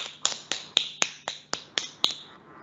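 Fingers clapped against the palm in a yoga hand exercise, nine crisp evenly spaced slaps about a quarter second apart, close and clear with nothing else around.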